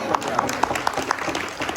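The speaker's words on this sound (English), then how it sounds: "Give her a round of applause." Brief applause from a group at a team meeting, with scattered, fairly close claps mixed with voices over a short stretch.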